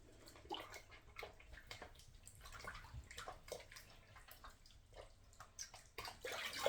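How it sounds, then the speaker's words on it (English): A washcloth is rinsed under running water at a sink, giving a steady close splashing and dripping wash with a few louder bursts near the end and no talking. "So let me rinse out my washcloth."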